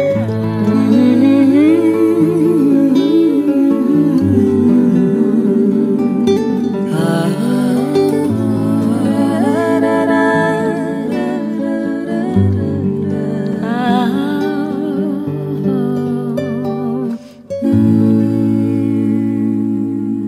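A recorded song plays with a singing voice over steady instrumental accompaniment, melodic and continuous with a brief dip near the end.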